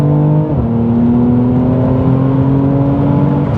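A 400 hp Mercedes C43 AMG accelerates hard on a wet road, its engine roaring loudly and steadily climbing in pitch, with a brief dip like a gear change near the start.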